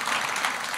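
An audience claps steadily at an evening literary event and book award announcement, a dense, even spatter of hands with no voices over it.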